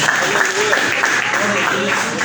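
Congregation at a Pentecostal evangelical church clapping for Jesus, steady dense applause filling the room, with voices and singing-like tones carrying over it throughout.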